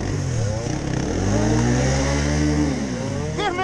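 A motorcycle engine revs hard and holds at high pitch for a few seconds, loud and close, then drops away, at the Erzberg Rodeo off-road event.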